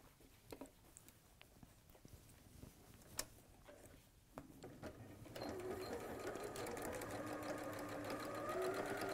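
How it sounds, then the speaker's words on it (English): A sewing machine stitches fabric for a quilt, a faint background whir that grows louder and steadier in the second half, with scattered light clicks and no voices. "you're literally just sewing across the bottom and all the way up around the neck and all the way back down across the bottom again"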